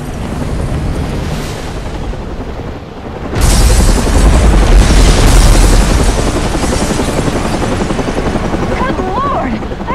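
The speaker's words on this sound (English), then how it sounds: "there has just been a massive explosion" A massive explosion at a hotel in the Batman: Arkham Origins video game sets off a loud, sustained roaring rumble that suddenly intensifies and keeps thundering, with voices speaking over it.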